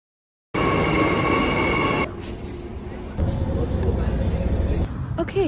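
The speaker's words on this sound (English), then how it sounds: "Going on the train." Train ride in Australia, with the loud rumble of a moving train cutting in abruptly, then dropping to a lower interior drone before swelling again with rattles and clatter.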